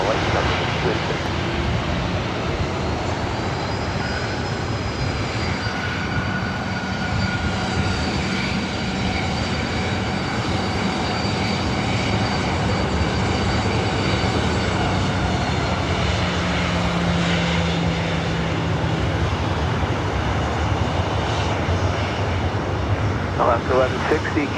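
Airplanes arriving and departing at LAX make a continuous engine roar that swells and fades over a long stretch, with voices talking over the noise.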